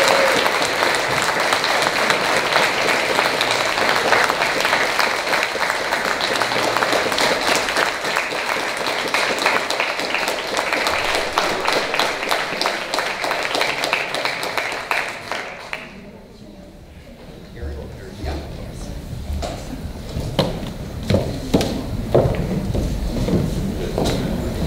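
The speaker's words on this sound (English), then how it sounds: "please, a round of applause for Councillor Taylor" An audience at a municipal candidates' debate claps steadily for about fifteen seconds, then the applause dies away and a scatter of scattered claps and room noise follows.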